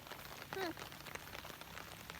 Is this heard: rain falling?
yes